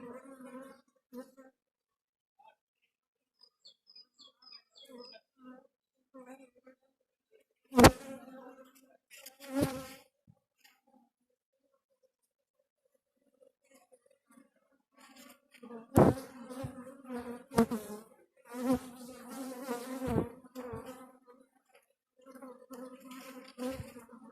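Honeybees hum faintly around an open hive during a beekeeper's colony inspection, a soft intermittent buzz beneath scattered talking and a few sharp knocks of handled hive frames.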